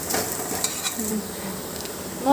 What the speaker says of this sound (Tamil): தேங்காய் நெய்யில் போடு